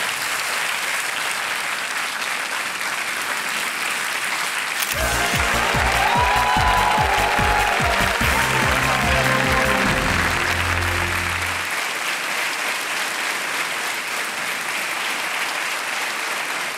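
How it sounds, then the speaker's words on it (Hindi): Loud applause from a crowd bursts in and continues steadily for about seven seconds, then stops, leaving quiet room noise. "तालियां बजती रहे"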